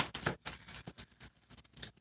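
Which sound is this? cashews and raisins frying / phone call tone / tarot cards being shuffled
tarot cards being shuffled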